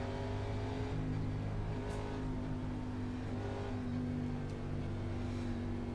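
K&N Impala race cars starting on the green flag at New Hampshire in a racing game, with a steady, dense engine drone and layered tonal hum from a full field rolling together.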